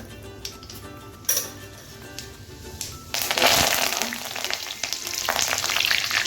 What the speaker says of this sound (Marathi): जिरे मोहरी घालायची आपल्याला त्याच्यामध्ये